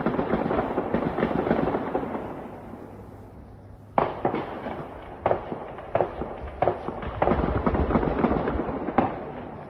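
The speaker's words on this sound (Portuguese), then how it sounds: "Esse tiro é tipicamente arma pequena tentando derrubar drone." A replayed recording of small-arms gunfire aimed at a drone during the war in Ukraine. A dull background rumble gives way to a series of sharp, mid-distance shots in irregular bursts.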